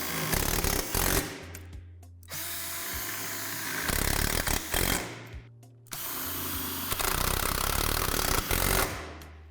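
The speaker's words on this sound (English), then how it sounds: "You will be drilling through the frame, so make sure your drill is fully charged" Cordless drill boring through the metal frame of a Lifetime Power Lift portable basketball backboard, loud whining bursts repeated several times with short pauses between.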